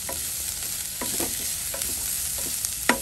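Onions sizzle in hot oil in a pan while a spatula stirs them, a steady close frying hiss broken by irregular soft scrapes and a sharper clink near the end.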